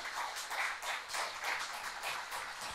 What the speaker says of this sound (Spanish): Dale fuerte palmas al Eterno